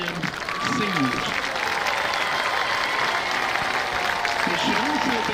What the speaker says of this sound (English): one big final round of applause for our 23 marching band seniors